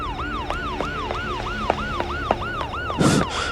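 An ambulance siren wails in a steady, repeating rise-and-fall cycle, loud and close throughout, with a short burst of rough noise near the end.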